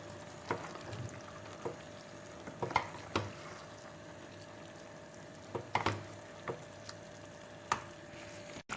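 A spoon stirs diced tomatoes frying in a pan for menemen with ground meat, with scattered scrapes and knocks over a steady low sizzle, close by and with no voices.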